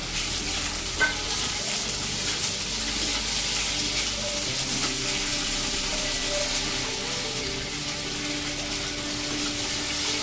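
Tomatoes and masala fry and sizzle in a pan for bombil rassa, a steady crackle broken by occasional stirring scrapes and clinks, with no talking.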